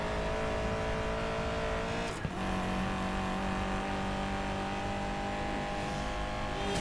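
A car accelerating in the racing video game Need for Speed, its steady engine roar loud and continuous throughout with a brief dip and bump partway, tire noise layered in, and no talking.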